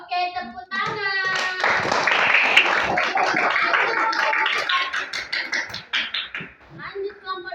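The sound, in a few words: class clapping hands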